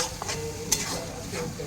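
Spice paste with green chili paste fries in a pan, a soft sizzle under the scrape and clink of stirring, with a few sharp knocks of the spoon against the pan.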